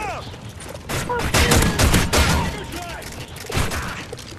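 Rapid bursts of gunfire from the video game Call of Duty: Modern Warfare 3, infected mode, crackle loudly in clustered volleys across the clip, with excited shouting voices over the shooting.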